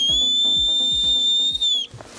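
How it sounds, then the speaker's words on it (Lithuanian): A single sustained, shrill hunting whistle signals the start of a hunt, blowing steadily for nearly two seconds over soft rhythmic low thumps before cutting off abruptly. "medžioklės pradžią skelbs švilpukas."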